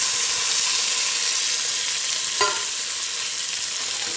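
Small onions, big onions and garlic frying in a pan with oil, a loud, steady sizzle and hiss with a brief clink partway through and no talking.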